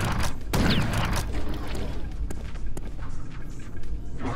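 Video game gunfire in Chasm: The Rift: a loud burst of shots and booms up front, then scattered sharper reports over a dense rumbling background.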